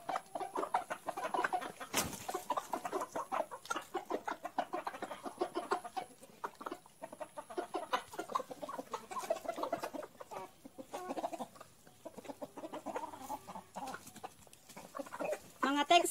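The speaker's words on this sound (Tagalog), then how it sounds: "Mga cockerels, yan ang mga cockerels po namin." Free-range cockerels cluck steadily at close range in a farmyard, their busy chatter continuous throughout with occasional louder calls and faint crowing in the background.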